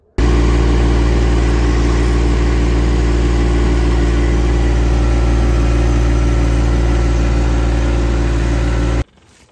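A truck engine idles steadily at a worksite by a hill where a wooden mountain-bike drop is being built, its low, even rumble loud and close for about nine seconds before cutting off abruptly.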